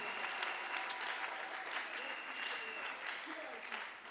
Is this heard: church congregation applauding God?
yes